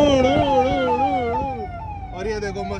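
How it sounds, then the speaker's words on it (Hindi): A vehicle siren wails close by, its rising and falling tone sliding down over a few seconds amid traffic, with a voice audible briefly. "थार में मैं भी ऐसा सायरन लगाऊंगा"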